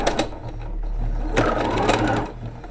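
A Bernette sewing machine with a rolled hem foot stitches a narrow rolled hem, giving a steady, close mechanical whirr with a rapid needle rhythm that runs throughout.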